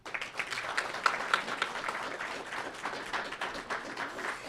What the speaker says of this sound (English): Let's give a huge round of applause to our readers and our fundraisers